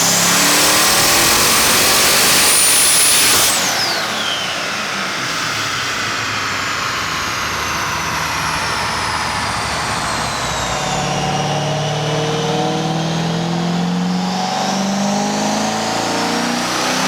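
A twin-turbo C6 Corvette Z06 engine on a dyno is held at high, loud revs, then drops off and sweeps through long, sustained pulls with the pitch rising and falling. The sound is close and continuous, with no talking.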